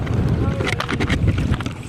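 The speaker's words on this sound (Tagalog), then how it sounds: "lakas ng hangin" Strong sea breeze buffets the microphone at a beach in Calatagan, Batangas, a constant low rumble with gusty bursts, and faint voices come and go underneath.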